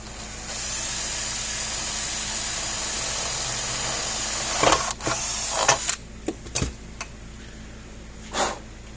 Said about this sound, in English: And drill a hole about dead center between the two.